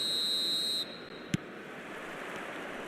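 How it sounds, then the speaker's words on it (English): A referee's whistle starts a match in the eFootball video game. It is a sustained, shrill blast that cuts off abruptly and is followed by a soft thump over a constant crowd roar. "There's the whistle, and here we go."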